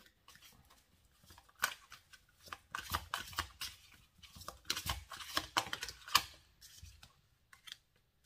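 Tarot cards are drawn from a deck, a run of soft papery slides, flicks and taps in irregular bursts, close and fairly quiet with no talking.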